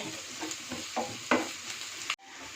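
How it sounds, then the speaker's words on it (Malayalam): Potatoes sauté in a cooker pan for a vegetable pulao, a close sizzle broken by several scraping stirs before a sudden cutoff. "നമ്മുടെ ഉരുളക്കിഴങ്ങ് 1 മിനിറ്റ് വഴറ്റിയെടുക്കട്ടെ"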